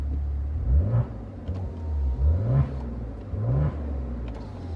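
A Maserati Ghibli SQ4 engine, 468 hp, revs three times in succession, each rev rising sharply and then falling back, loud and close, with no talking.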